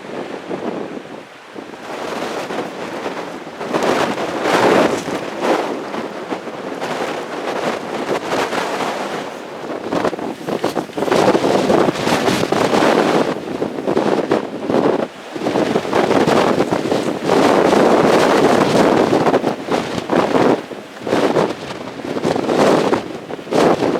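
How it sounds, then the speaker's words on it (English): Strong gusts buffet the microphone in a pine forest, producing a loud, continuous rumbling roar that surges and eases in waves over twenty-odd seconds, with no talking. "Bloody wind."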